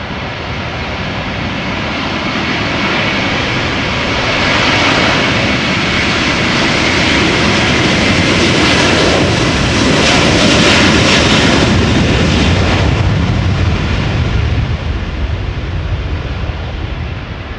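A KLM Airbus A330-300 takes off at Amsterdam Schiphol in a crosswind, its jet engines a loud, sustained roar that builds, peaks in the middle and slowly fades, with no talking.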